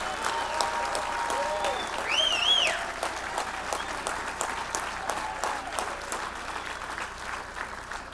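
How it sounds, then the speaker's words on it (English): An indoor audience breaks into sustained applause for volunteers, a dense clapping that swells early and stays steady, with a few voices and cheers rising through it. "give you a round of applause for all that you've done"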